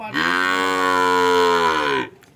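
A Sahiwal bull calf lets out one loud, close, sustained moo lasting about two seconds, then it cuts off into near quiet.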